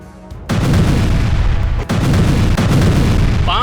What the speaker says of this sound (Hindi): 5 सेकंड तक धमाके